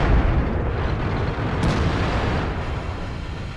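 KV-2 tank gun in World of Tanks firing a high-explosive round: a loud, deep boom that swells at once and then rolls on as a long low rumble with no voices over it.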